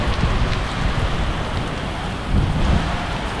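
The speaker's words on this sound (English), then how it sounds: "It is like torrential downpour right now." Torrential downpour during a thunderstorm in Venice at night, a loud, dense roar of heavy rain pounding surfaces with steady intensity and low rumbling beneath.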